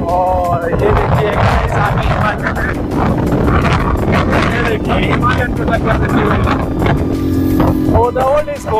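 A 2002 Bajaj Pulsar 150 motorcycle being ridden, its engine droning loud and continuous with wind rush throughout, while someone talks over it.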